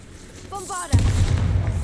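A spell explosion cast in Hogwarts Legacy, a single sudden deep boom and rumble right after a brief spoken shout, close and loud, trailing off into a low roar.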